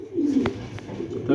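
A young male Texan pigeon coos softly nearby, a low, rolling murmur that swells and fades twice over a quiet background.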